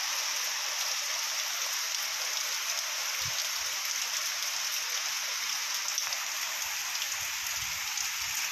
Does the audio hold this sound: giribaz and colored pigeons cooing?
no